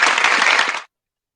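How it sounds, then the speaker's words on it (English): A short burst of dense audience applause lasts under a second, then cuts off abruptly into silence. "give a round of applause"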